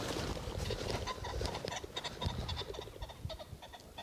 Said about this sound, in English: That's a lot of pheasants around here.